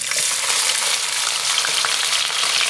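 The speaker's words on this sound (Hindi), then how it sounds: "मीडियम साइज़ के 2 प्याज चॉप किए हुए ऑयल में ऐड करते हैं" Chopped onions fry in oil with cumin seeds, giving a steady dense sizzle that runs without a break for the whole short stretch.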